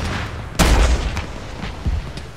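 An armored vehicle's weapon fires on a BMP in the Arma military game: one sudden loud, deep boom with a heavy low rumble, followed by fainter thuds and a distant lower boom near the end.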